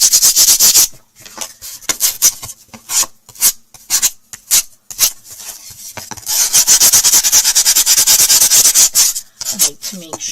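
Wood sanded by hand with the grain: loud, close rasping strokes in a quick rhythm, broken by short pauses, then a longer continuous run of scrubbing.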